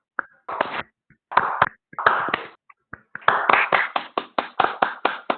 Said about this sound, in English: Let's give them another round of applause for the demonstration.